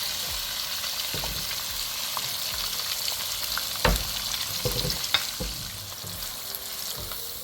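Two onions fry in a pan for fish shorba, a steady soft sizzle under occasional stirring scrapes and a few sharper utensil clicks, with no talking.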